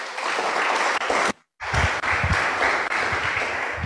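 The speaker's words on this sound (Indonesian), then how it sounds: "Tepuk tangan dong." A church congregation claps together during a sermon, a full wash of applause broken by one brief dropout, with low thumps underneath as it carries on.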